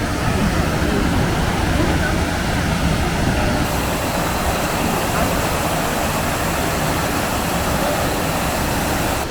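Cheondang waterfall in Cheonbuldong valley on Seoraksan pours with a loud, steady broadband roar that fills the whole clip, heard up close from the mountain stairs.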